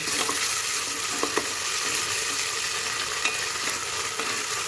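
Ginger and garlic paste sizzles steadily in a hot pan for a spicy beef curry, a bright continuous frying hiss with a few soft clicks of stirring, no voices.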